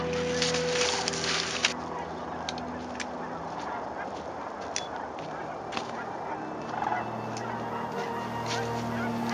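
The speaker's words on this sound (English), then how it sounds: "There they are, Sandhill Cranes." Sandhill cranes call in a rolling, honking chorus from a distance on a November day, with scattered louder bugling calls standing out over a steady murmur of the flock and faint background noise.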